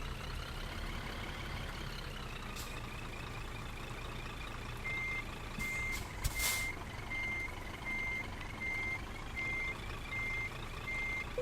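A truck in Euro Truck Simulator 2 backs in, sounding regular reversing beeps over a steady low engine drone, with a brief air-brake hiss partway through and no talking.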